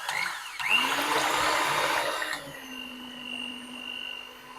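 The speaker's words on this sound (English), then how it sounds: "we're going to whisk these until they form stiff white peaks" An electric mixer whisks four egg whites in a bowl toward stiff peaks for pavlova, a loud whirring that rises, holds steady, then drops to a lower, quieter hum.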